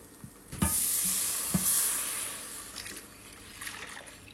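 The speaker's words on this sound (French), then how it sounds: "Et je viens remuer afin d'éviter d'avoir des grumeaux." Milk is poured into a hot pan and stirred for mac and cheese, producing a loud hissing sizzle that slowly fades, with a couple of sharp utensil knocks and soft scraping strokes up close, no talking.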